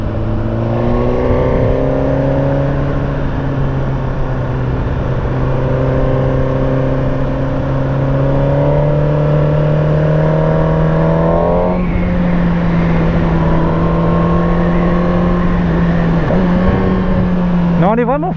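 Suzuki GSX-R 1000 2017 motorcycle on its stock exhaust, its engine droning loud and close while riding, pitch rising through the revs, briefly dipping at a gear change, then climbing again, with steady wind noise throughout.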